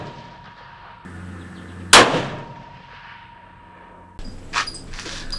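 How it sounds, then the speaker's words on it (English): A shotgun fires a shell outdoors, one loud sharp blast near the middle, followed by a decaying tail and a later smaller burst; no talking. "we just shot a few shells through the gun"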